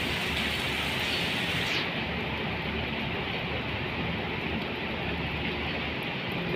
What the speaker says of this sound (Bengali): এই যে কি পরিমাণ বৃষ্টি হইতেছে।